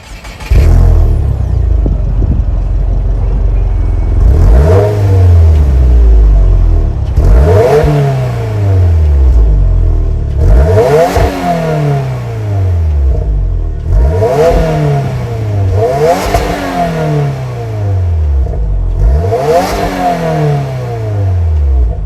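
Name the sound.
boxer turbo four-cylinder car engine revving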